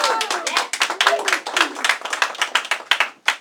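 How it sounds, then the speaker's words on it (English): An audience claps for a live band after an evening performance, the crisp, quick clapping rising and falling in bursts, with voices calling out over it near the end. "Let's give them an applause."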